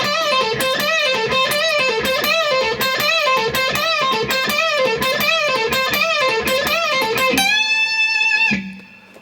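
Distorted electric guitar plays a line from a guitar solo: a fast, repeating pattern of picked notes at steady volume, ending on a held ringing note that fades out, with no talking.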